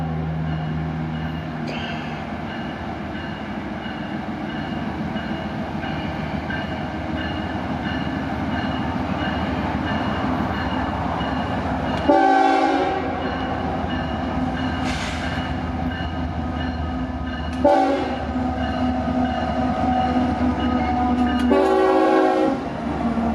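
CSX freight train rolling on the main line near the Bushnell siding, a steady low rumble throughout with three loud horn blasts near the end, the last two close together.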